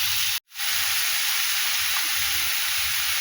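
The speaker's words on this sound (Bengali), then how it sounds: "এইবারে এটাকে ভালো করে আমি কষে নেব, ভেজে নেব আর কি।" Vegetables and ground spices sizzling and frying steadily in hot oil in a pan for a fish curry, a loud continuous hiss broken once by a brief silence near the start.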